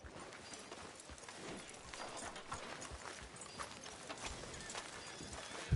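Steady clip-clop of horse hooves at a walking pace, fairly close, continuing throughout over a dense background of ambient noise.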